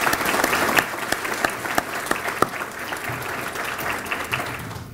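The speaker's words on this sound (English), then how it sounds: "let's give them a round of applause for making this possible" An audience at an evening awards event gives a round of applause, a dense, sustained wash of many hands clapping with some sharper individual claps near the front, fading slightly toward the end.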